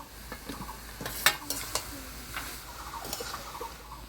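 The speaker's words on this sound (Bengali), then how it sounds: "শাকটা আমি মাছের মুড়া দিয়ে ভালো করে নাড়াচাড়া করে নিলাম" Bathua greens stirred with fried fish heads in a pan, a quiet background sizzle broken by several sharp scraping and clinking strokes of a spatula, close and without talk.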